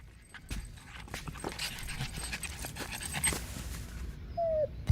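A puppy in a TV commercial pants and whimpers close up, with light tapping and padding sounds between breaths and a brief squeaky tone near the end.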